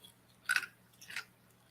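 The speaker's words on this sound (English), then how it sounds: "I'm chewing ice." Ice being chewed close to the mouth, two sharp crunching bites about half a second apart, loud and crisp against quiet, with no talking.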